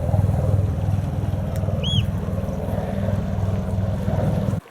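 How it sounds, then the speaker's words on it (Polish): Small fishing boat out on the water off rocky Norwegian shore, heard as a steady low engine drone with wind and water noise, continuous and fairly loud throughout, then cutting off abruptly at the end. "Tam sobie ktoś na ryby wypływa małą łódeczką."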